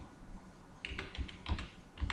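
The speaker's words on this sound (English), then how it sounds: "I am using cursor control keys" Keys tapped on a computer keyboard, cursor control keys in MS Word, in an uneven run of soft, close clicks starting after a quiet pause, with no talking.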